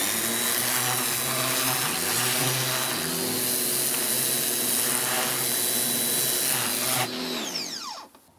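A Parkside PHD 110 pressure washer runs with a steady, loud motor-and-pump drone for about seven seconds, then cuts off and winds down to quiet. Nobody talks.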